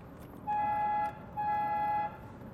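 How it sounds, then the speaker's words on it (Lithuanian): An older car's horn sounds twice in the cabin, two close, clear, flat beeps of just over half a second each, separated by a brief pause against a quiet background. "Tai turime avarinį ir kas įdomiausia, štai šitą garsinį signalą."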